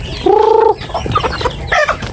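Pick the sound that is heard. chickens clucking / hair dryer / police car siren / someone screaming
chickens clucking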